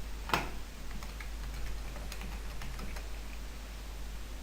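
A search being typed on a computer keyboard: a handful of faint, quick key clicks in an irregular rhythm over a low steady hum, with no talking.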